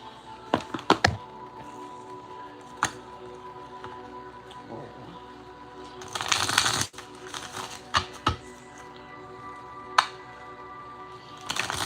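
An oracle card deck being shuffled, with scattered taps, knocks and thunks of handled cards and a brief dense riffling burst partway through, close by in a quiet room.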